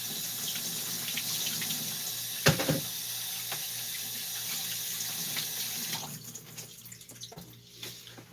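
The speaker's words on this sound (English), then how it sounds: "wash my hands." Water runs steadily from a sink tap during handwashing, a close continuous splash with a brief louder gush partway through, then thinning and dripping toward the end.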